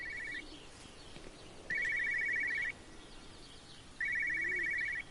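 A telephone rings in the video game Everybody's Gone To The Rapture, with two long electronic bursts separated by a pause over a quiet ambient background and no voices.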